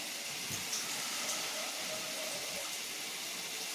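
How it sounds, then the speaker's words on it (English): Cold water pours steadily into a cooking pot while sadza is being prepared, giving a continuous hissing, splashing gush at moderate volume with no talking. "In here, I'm going to put cold water first."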